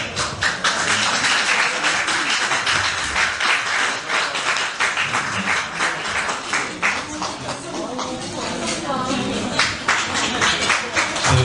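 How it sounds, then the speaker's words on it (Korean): Sustained dense applause from an audience at a university retirement lecture, loud and continuous as award recipients are called forward, with voices talking underneath the clapping. "큰 박수 부탁드리겠습니다."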